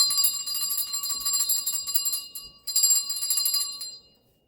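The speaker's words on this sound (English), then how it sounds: "I'll be ringing the shit out of that bell" A small hand bell rings rapidly and continuously, briefly pausing once before resuming, then stopping and fading out.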